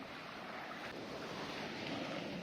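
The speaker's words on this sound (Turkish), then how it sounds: "Sahil boyu dalga sesleri." Ocean waves wash along the shore at Bademli cove in a soft, continuous hiss of surf mixed with a little wind, faint and steady for a few seconds.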